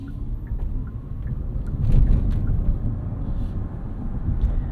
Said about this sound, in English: I'm not the biggest fan of driving EVs around with propulsion noise.